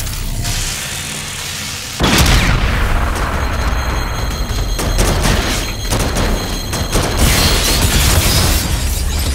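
A demolition charge detonates in the shooter game Call of Duty: Infinite Warfare, a sudden loud boom after a low rumbling lead-in, followed by a long roaring wash of rubble, crackle and debris that stays loud to the end.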